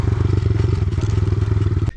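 A small mini motorcycle, its engine fully rebuilt, idles and putters steadily up close as it arrives home, a loud rhythmic low-pitched pulse that cuts off abruptly near the end.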